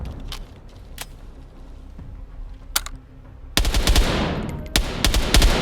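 Gunfire in ARMA Reforger: a few sparse distant single shots over quiet ambience, then a loud close burst of rapid automatic fire with echoing tails and further shots.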